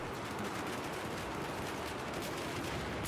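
An RPK light machine gun fires in Battlefield 4, a dense, continuous rattle of rapid automatic shots lasting the whole span, loud and unbroken.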